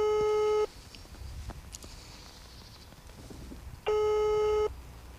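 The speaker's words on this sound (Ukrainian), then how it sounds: "Після кількох гудків зв'язок переривається." A steady, loud telephone line tone sounds twice with a quiet gap of low background noise between, as a call to a company's phone number fails to connect and drops.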